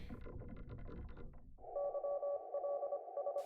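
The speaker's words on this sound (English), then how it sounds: "the sound of a new electric telegraphic code has entered the ether" After a jumble of noise, a steady electronic tone pulses in short and long beeps of electric telegraph Morse code, clear and fairly loud.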